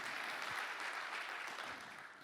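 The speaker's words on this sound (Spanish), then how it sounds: "Dale ese fuerte aplauso al que vive, al que reina, al que venció" Steady, sustained applause from a church congregation fills the space throughout, a broad wash of clapping that holds level and fades only slightly at the end.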